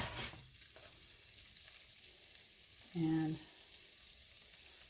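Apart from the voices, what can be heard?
sage leaves sizzling in melted brown butter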